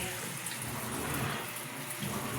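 Water splashes and rushes steadily while towels and a thick blanket are hand-washed, a close, continuous broadband wash with no clear pauses.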